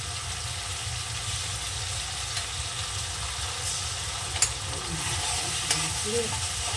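Tomato, whole green chillies and ginger-cumin paste frying for chana dal, a steady close sizzle with scraping stir sounds over a low rumbling hum, no talking.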